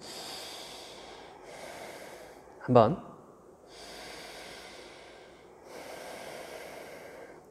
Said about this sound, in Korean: 5번 숨 쉬어볼까요?